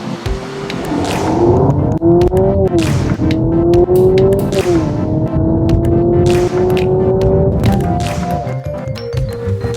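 A 2022 Honda Civic's engine accelerates hard, its note climbing through the gears with two clear upshift dips, loud and close from inside the car.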